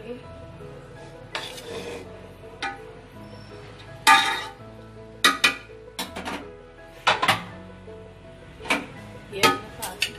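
Rice tipped into a pot of chole biryani layered with onions, giving a few soft clinks and scraping stirs of a spoon against metal, intermittent and close, with no talking.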